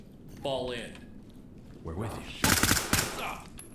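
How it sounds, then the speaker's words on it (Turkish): Gunfire in the tactical shooter Ready or Not, a short burst of sharp rapid shots in the middle of the clip, with someone talking before it and game noise around it. "Bizimkiler birilerini vuruyor sanırım orada."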